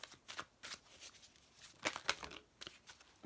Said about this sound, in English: I need to shuffle this properly.